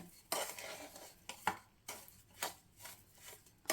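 Rava laddu mixture being stirred in a bowl, with a spoon clinking and scraping against the sides in irregular bursts, close and moderately loud, no talking.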